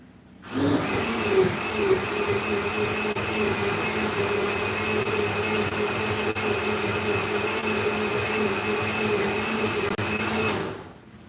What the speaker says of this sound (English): I'm going to blend this coconut again for the third time